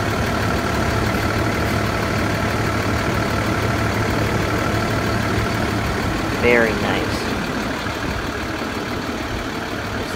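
Cummins ISB 6.7 L diesel in a 2017 International IC-CE school bus idling with a steady low rumble throughout, someone briefly speaking over it partway through.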